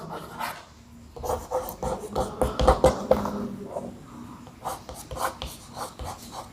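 Close chalk or marker writing on a board in a classroom, a series of irregular scratchy strokes and taps with brief pauses between words, no speech heard.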